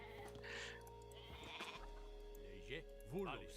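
Goat bleats in the video game Age of Mythology come in short wavering calls, a couple of distinct cries over a busy background with faint voices and game ambience.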